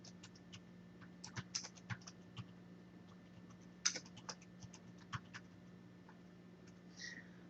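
Keys on a computer keyboard are tapped in a quiet room, with a sparse irregular clatter of soft clicks and a few sharper strokes over a low steady hum.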